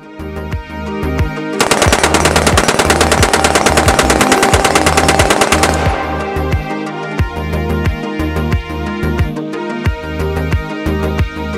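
A Daewoo K3 5.56mm machine gun fires loud, close, rapid bursts of sharp repeated shots, with one sustained burst of several seconds among shorter strings of fire.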